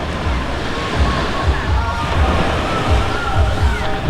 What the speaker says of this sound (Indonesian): dengan deburan ombak yang sedikit tidak begitu deras ya